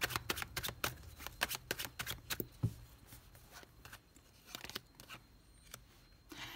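Tarot cards shuffled by hand, a rapid burst of crisp riffling snaps followed by sparser papery flicks and slides, close and quiet with no talking.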